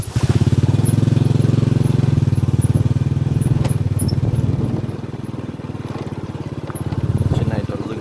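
A motorbike engine drones steadily and fairly loud on a hill road through acacia forest, its pitch dipping and rising as the ride goes on, with rattling and wind noise throughout.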